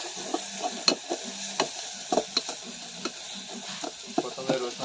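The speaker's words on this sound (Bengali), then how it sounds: "তারপর আমরা পেঁয়াজ রসুন তেলের মধ্যে দিয়ে দেব" Onion and garlic sizzling in hot oil in a pan, a lively crackle with frequent stirring scrapes and spoon knocks breaking through at irregular intervals, close and clear with no talking.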